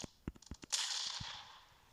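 A few quick, soft clicks are followed by a single sharp, cracking gunshot in the video game PUBG that rings out and fades into a brief echo.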